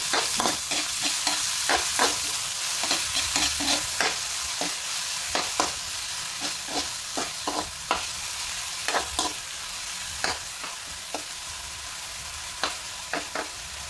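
Vegetable filling for lumpia being stirred in a pan, with repeated sharp scraping and clacking strokes of the utensil over a steady background sizzle, close and clear with no talking.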